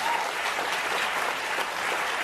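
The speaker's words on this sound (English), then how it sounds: "they're cheering about killing babies" A large crowd applauds and cheers from a played recording, a dense wash of clapping held at a constant moderate level throughout, with no distinct voices rising out of it.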